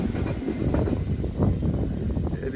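A train passing outdoors produces a steady, loud rumble with faint rhythmic clatter of wheels on rails, continuous throughout with no voices.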